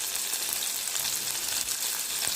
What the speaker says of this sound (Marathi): तेलामध्ये छान परतून घेतलेलं आहे